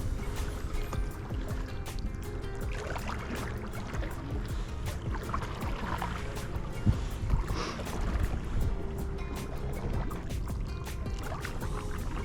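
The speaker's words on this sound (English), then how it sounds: "I can start paddling across the river now" Canoe paddles working across a river, with steady broadband water and wind noise running throughout and a few louder splashes near the middle; no voices.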